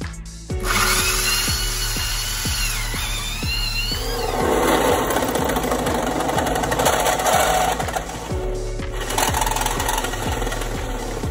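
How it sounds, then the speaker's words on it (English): A power drill whirs loudly and steadily, its pitch shifting as it bites through a van floor, with rhythmic mechanical ticking underneath and a brief pause near the end. "we're going to drill it so that it hopefully goes down to the bottom of the van"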